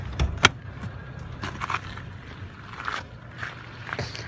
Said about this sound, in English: All right, I'm gonna open up the hood.